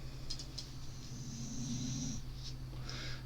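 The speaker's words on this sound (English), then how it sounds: "Can you hear him snoring?" A dog snoring close by indoors, a steady low rumbling drone with faint wheezy snorts on top, continuing for a few seconds with no talk.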